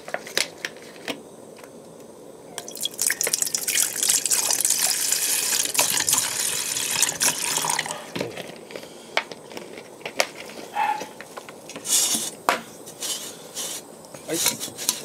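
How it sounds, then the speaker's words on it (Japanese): Water poured into a small container outdoors for boiling over a portable burner, a steady close splashing gush lasting several seconds, with handling and rustling noises around it. "お湯というか、水入れましょうか。"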